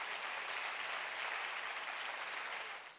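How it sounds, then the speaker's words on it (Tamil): An audience claps steadily for children at a devotional children's festival, a dense, even wash of applause lasting throughout and tapering slightly at the end, with no talking. "நல்லா தான் நம்ம கைத்தட்டுவோம்."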